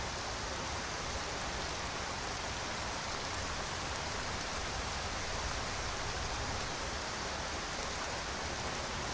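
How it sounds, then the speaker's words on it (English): Steady rainfall in Skyrim hisses evenly throughout, a dense wash of drops with no talking and no change in intensity. "Nice listening to the rain."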